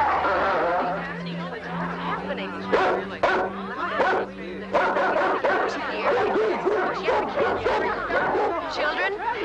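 Dogs in a 1967 film barking and yipping over and over, close and loud, mixed with excited whimpers and overlapping human voices throughout.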